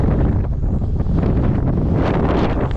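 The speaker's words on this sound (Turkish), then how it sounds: "rüzgar esiyor." Strong storm wind blows hard and continuously during sea bass fishing, a loud roaring gust battering the microphone without a break.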